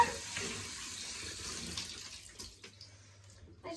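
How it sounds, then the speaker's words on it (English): Tap water runs steadily into a sink as a shower head and its hose are rinsed after mould removal, a broad close hiss that thins out toward the end with a few splashes. "Have a little wash as well inside the cord."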